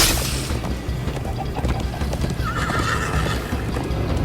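A horse in the video game Minecraft: Story Mode neighs loudly over steady clip-clopping hooves and a dense game soundscape, with no voices.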